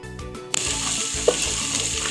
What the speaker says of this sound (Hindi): इन 4 चीज़ों को मैं तेल में चखा लूँगी। और इसमें मैं हरी मिर्चें भी डाल दूँगी और मिर्चों को भी मैं थोड़ा सा फ्राई कर लूँगी।